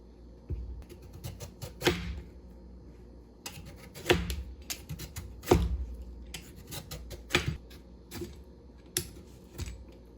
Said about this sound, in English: you're just gonna use the potato peeler to peel the skin of the squash